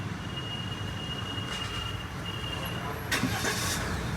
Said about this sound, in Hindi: तो ये इंजन नॉइज़ इसकी होती है।